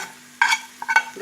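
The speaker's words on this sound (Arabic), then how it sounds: "حمرنا التومه، ادينا لها تحميره حلوه." Garlic frying in a pan for a cooking dish, with short sizzling bursts and stirring scrapes over a quiet steady hum.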